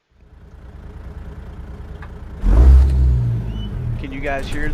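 A truck engine in American Truck Simulator: a low idle rumble steadily builds, then surges into a loud revving roar midway and keeps droning, with a voice talking over it.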